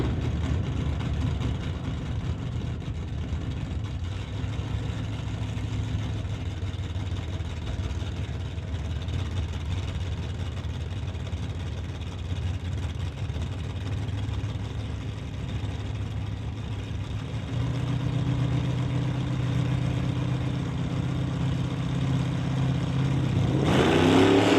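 Drag race cars, an Old School Cutlass and the Meteor, rumble steadily at an NHRA Summit ET Series event, a loud continuous engine drone that swells in the final seconds as the cars rev.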